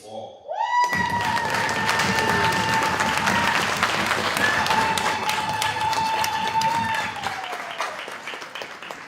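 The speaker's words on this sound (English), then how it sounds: "As the others clap for them and congratulate them." Audience applauding the third runners-up team at a medtech hackathon final, a sustained burst of dense clapping with some cheering that starts abruptly, holds loud for several seconds, then fades.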